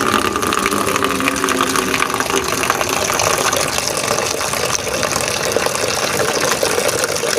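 Water pours steadily into a container for watering plants, a continuous close gushing and splashing that runs unbroken throughout with no voices.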